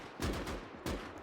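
Gunfire in the World War II strategy game Gates of Hell, two heavy distant-sounding shots roughly half a second apart over a rumbling battle background.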